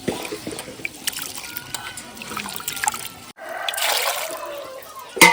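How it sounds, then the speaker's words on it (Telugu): Water pours and trickles into a pot of forest tubers and washed rice being cooked in a Telugu village, a close, uneven splashing that turns to a brighter, steadier fill partway through. "దుంపలు మునిగే వరకు నీళ్లు పోసి ఈ కడిగిన బియ్యాన్ని కూడా దాంట్లో వేసేయాలి"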